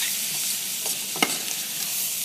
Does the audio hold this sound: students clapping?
no